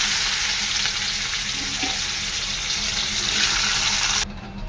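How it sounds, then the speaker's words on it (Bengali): Bitter gourd frying in oil gives a steady, dense sizzle that holds close and loud, then drops away abruptly near the end. "এই উচ্ছেটাকে তেল দিয়ে দিয়েছি একটু ভাজা করে নেবো"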